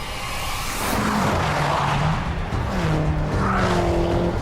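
A tuned turbocharged Subaru Impreza Type 25 accelerates hard on an open road, its engine note close and loud, rising steadily in pitch over a few seconds with a rough edge of road and tire noise.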